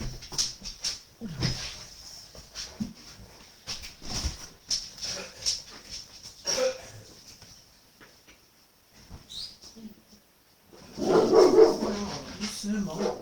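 A pet dog indoors barks in short bursts and whimpers, loud and close, with a flurry of louder yips near the end, while a person talks in French between the sounds.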